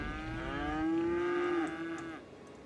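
A cow moos once in the Cities: Skylines city-building game, a long drawn-out low call that swells and fades over about two seconds, heard alone and fairly close.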